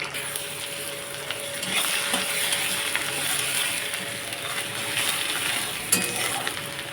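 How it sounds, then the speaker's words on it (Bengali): An egg fries in a pan on a home stove, giving a steady crackling sizzle that runs throughout, with occasional clinks and scrapes of utensils and no talk. "ডিমটা অলমোস্ট ভাজা হয়ে গেছে, এবার এটাকে তুলে নেবো, কেমন?"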